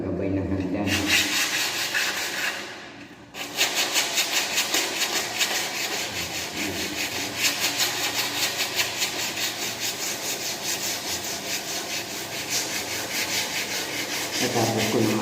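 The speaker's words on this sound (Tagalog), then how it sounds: "Ngayon po naman ang nililiha ko itong pinakagabay ng hagdan." A wooden stair handrail is sanded by hand in steady, rapid rasping strokes, loud and close, broken by a short pause before the rubbing carries on.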